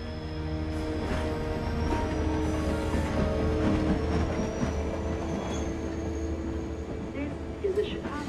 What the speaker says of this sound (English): This is a Chicago-bound train.